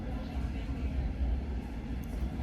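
Inside a moving train, a low, steady rumble and rattle of the carriage running along the track, continuous and close.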